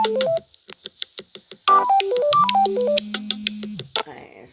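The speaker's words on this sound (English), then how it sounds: "I forgot to mute my phone" Mobile phone going off during a video call, a melodic electronic ringtone of stepped beeping notes and a sustained low tone, close and fairly clear, with brief bits of talking around it.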